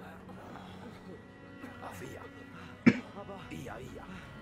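One sharp cough bursts out once from a sick character coughing in someone's face, heard over continuous talk that runs before and after it.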